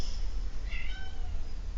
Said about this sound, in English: Now she's just sitting at the other end of that door meowing.